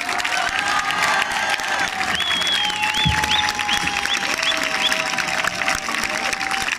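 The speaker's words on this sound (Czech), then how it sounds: "ešte raz môžete vyplieskať veľkým potleskom tanečný súbor Juka" An audience at a performance applauds a dance ensemble with sustained clapping and some cheering, while children's voices rise in the background.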